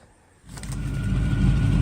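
A Chevy Nova engine fitted with Dynomax bullet mufflers starts after near silence and settles into a loud, steady, throaty low rumble up close, with no talking.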